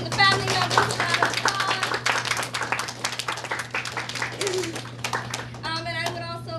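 Audience at a panel discussion on adapting to daily challenges gives a round of applause, a dense continuous patter of many hands clapping close and loud, with children's voices and chatter mixed in and a low steady hum beneath.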